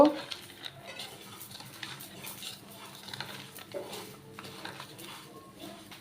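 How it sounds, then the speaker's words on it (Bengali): Food is mixed by hand with salt, green chilli and onion, making soft, close squishing and stirring sounds with faint clinks from dishes, and no talking is heard. "এগুলো আমি একসাথে সব মাখায় নিব"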